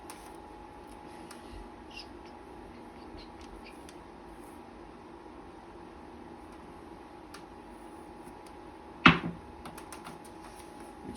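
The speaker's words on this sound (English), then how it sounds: "First roll of the dice." Dice thrown on a casino craps table, a single sharp clattering burst of dice tumbling and settling, close and brief against a quiet room hum with no talk.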